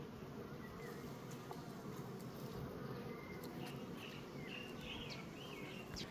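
Honey bees buzz at an open hive while an old queen is swapped for a young mated one, giving a steady, quiet, continuous hum.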